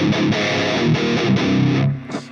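Distorted electric guitar played straight into a Mooer GE200 multi-effects unit with no amp, a saturated, slightly fuzzy tone with chords struck in repeated bursts, loud and close, then fading into a short final note.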